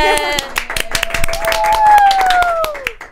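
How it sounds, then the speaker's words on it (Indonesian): Scattered hand clapping with a crowd cheering, while a bright tone sweeps downward through the middle. "tepuk tangan dulu buat Mbak Zihan."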